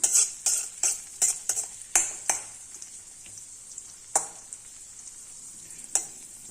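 Cashews and raisins frying in a pan while being stirred, a quiet sizzle broken by a series of sharp scraping taps from a metal spoon against the pan, no voices.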